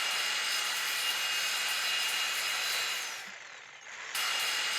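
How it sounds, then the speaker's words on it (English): A grinder cutting through ship doors while scrapping a destroyer in the game Ship Graveyard Simulator 3, a steady high metallic whine that dips briefly near the end before resuming, alone without talk. "Do we use the grinder? Oh, we use the grinder."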